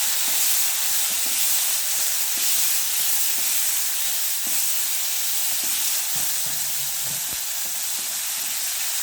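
Curry leaves sizzle and crackle in hot oil for a coconut tomato chutney, a loud continuous frying hiss with small pops scattered throughout and no voices.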